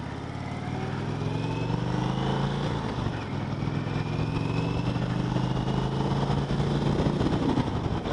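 2020 Indian Chieftain Elite motorcycle engine while riding, a steady low rumble with gently rising and falling pitch as it shifts, continuous and moderately loud with wind noise.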